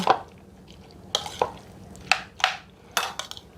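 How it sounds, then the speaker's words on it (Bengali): Boiled potatoes mixed with salt for aloo kabli, stirred and tossed in a bowl: a series of irregular scraping and clattering strokes, close and moderately loud, with quiet gaps between them. "ভালো করে নাড়াচাড়া করে নিয়ে নেব"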